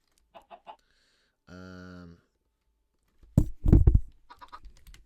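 A few short, soft clucks from Minecraft chickens, followed by a sustained tone and a louder burst of rustling, clattering noise.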